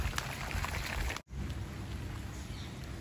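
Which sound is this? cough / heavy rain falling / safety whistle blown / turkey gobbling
heavy rain falling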